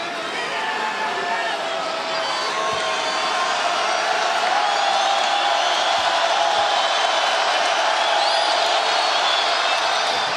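A dense college basketball arena crowd roars loudly and steadily during a free throw in a Kansas State versus Iowa State game, continuous broad noise with no break.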